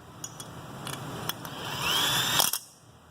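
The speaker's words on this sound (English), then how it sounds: "Use your gun, just roll them down." An impact gun running bolts down while fitting a tow mirror on a 1988–1998 Chevy truck, brief close rattling bursts building into a short whirring run that stops abruptly.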